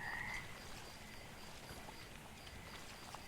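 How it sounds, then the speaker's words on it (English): Frogs croak in the pond-side scene of the video game Mudborne, soft and continuous under a watery ambient bed, with no talk. "So many frogs here."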